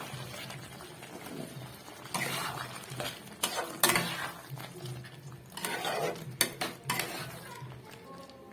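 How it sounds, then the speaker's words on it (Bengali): A spoon stirs chicken kosa with a generous handful of fresh coriander in a metal pan, scraping and clinking steadily against the sides with irregular louder knocks, close and unaccompanied by speech. "দিয়ে আবারও ভালো করে নাড়াচাড়া করে নেব।"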